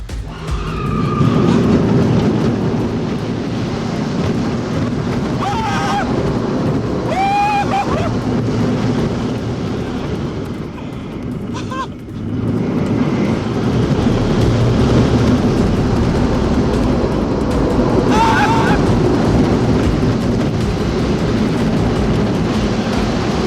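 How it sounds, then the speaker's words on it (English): The MonteZOOMa Forbidden Fortress roller coaster at Knott's Berry Farm roars continuously along its track from the onboard position, a loud, steady rumble of wind and wheels with brief shifts and a short dip midway. "I'm about to get my very first ride on the newly reimagined MonteZOOMa, the Forbidden Fortress."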